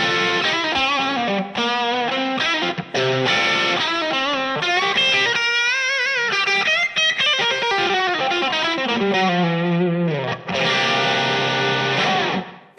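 A distorted electric guitar plays a busy, loud melodic line through a crunchy Marshall amp model on a Zoom G3Xn multi-effect pedal, with notes ringing into a spring reverb tail.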